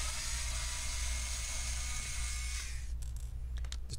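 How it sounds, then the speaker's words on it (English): A Phillips screw being backed out of an HP x360 14m laptop case during a teardown, a steady close whirring buzz of a small electric screwdriver that stops near the end, followed by a few faint ticks. "go ahead and remove that screw"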